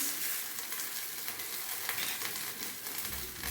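Lauki jowar chila sizzles steadily in a hot pan just after being flipped, a constant close hiss of frying oil with no voices.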